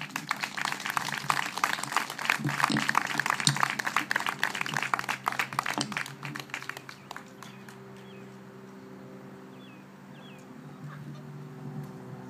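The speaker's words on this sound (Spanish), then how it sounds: "Denle un aplauso al Señor." Church congregation applauding at a Spanish-language service, a dense burst of clapping that tapers off after about six seconds into quieter room sound with faint voices.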